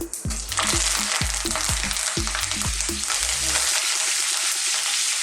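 Curry leaves hit hot oil with a loud, crackling sizzle that fills the scene, with a few rhythmic low knocks early on, then a steady hiss.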